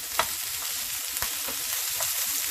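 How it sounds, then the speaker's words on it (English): Onions and peppers sauté in a pan with a steady broadband sizzle, while a spatula stirs them in a few distinct scraping strokes. No one speaks over the frying. "Saute that right up."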